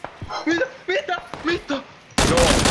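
A brief loud burst of gunfire in the video game PUBG cuts in near the end, following a stretch of excited voices talking.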